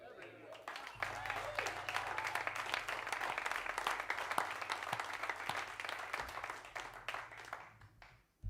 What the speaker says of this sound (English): How about another round of applause for this band?